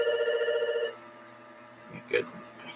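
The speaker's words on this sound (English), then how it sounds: "I hate the house phone when it goes off." A house phone rings indoors in a brief tonal burst that stops abruptly after about a second, leaving quiet room noise and a faint knock.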